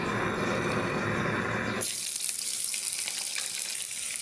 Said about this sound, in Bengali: ইলিশ মাছটা মচমচে করে ভেজে নেব।